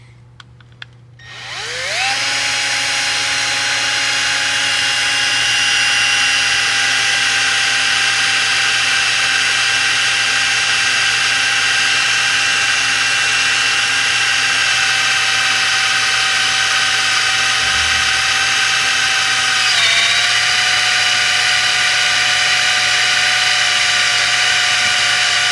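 A power drill spins up and bores into a wheel, a loud, steady high-pitched whine holding for over twenty seconds with a slight drop in pitch near the end as the bit bites.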